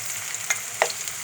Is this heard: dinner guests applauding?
no